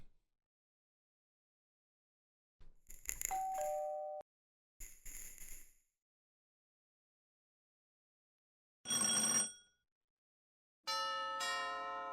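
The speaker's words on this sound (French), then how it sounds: "Big Doorbell." A big doorbell sound effect plays during a Twitch stream: a series of bright, ringing bell chimes in several separate bursts, each with silence between, moderately loud and with no talking.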